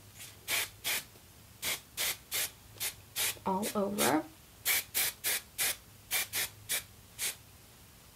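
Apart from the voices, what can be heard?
hairspray being sprayed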